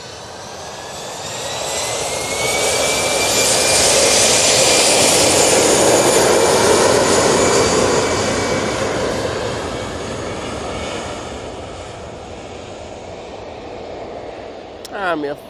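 A KLM jet airliner takes off at Manchester Airport with a broad, loud engine roar that builds, peaks and gradually recedes, and a voice talks over part of it.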